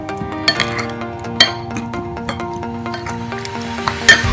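Bread-dipping batter for potato French toast being mixed in a bowl, with clinks of a spoon against the bowl and soft wet stirring, a few sharper knocks standing out.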